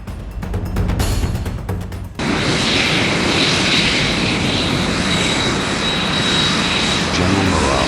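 Roar of the Firefox jet fighter from the film, a loud sustained engine rush with a whining tone that cuts in abruptly after a shorter burst of noise at the start.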